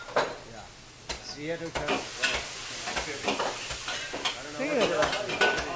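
Crispy Hong Kong style noodles stir-fried with vegetables, Shanghai greens, barbecue pork, squid and shrimp, sizzling steadily in a pan while a utensil scrapes and clanks in irregular strokes, close and fairly loud, with no talk.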